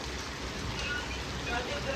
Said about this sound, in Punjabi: ਮੀਂਹ ਦੇਖ ਲਓ ਸਵੇਰ ਦਾ ਸ਼ੁਰੂ ਹੋਇਆ